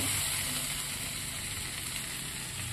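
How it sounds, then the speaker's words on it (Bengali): Sliced pointed gourd sautés with spices in a pan over a medium gas flame, giving a steady close sizzling hiss with no pause. "এবার ভালো করে এটা কষাতে থাকবো। এটা আবার মশলার সঙ্গে ভালো করে মিশিয়ে"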